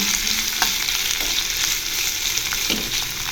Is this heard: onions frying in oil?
yes